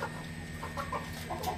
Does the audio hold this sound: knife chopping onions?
no